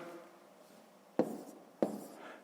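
Pen or pencil writing numbers on paper while working a column subtraction for a fifth-grade maths exercise, heard as two sharp taps followed by short scratchy strokes, close and quiet with no talking.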